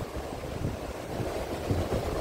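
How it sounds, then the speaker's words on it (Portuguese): Ocean waves meet and crash against each other on a rocky shore, a steady, close rumbling wash with gusting wind noise over the microphone. "As ondas se encontraram. As ondas se bateram"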